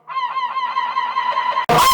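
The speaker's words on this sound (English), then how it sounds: "I love having pet seagulls on my roof." Seagulls call from a roof in a long honking, squawking cry lasting over a second and a half, loud and close, then cut off by a sudden burst of noise.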